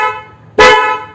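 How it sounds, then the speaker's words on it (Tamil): A loud extra trumpet horn on a vehicle, part of a dual horn setup, blasts once after a quieter tonal horn, sounding sharp and close before fading out. "பிரேக் அடிச்சா எக்ஸ்ட்ரா ஹார்ன் அடிக்கும்."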